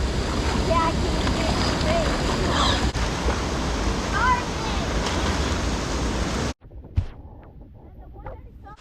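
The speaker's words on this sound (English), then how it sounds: "That water over there by that waterfall is so strong. The current." Strong rushing water from a creek and waterfall roars steadily at close range with wind buffeting, then cuts off abruptly near the end, leaving only faint outdoor sounds.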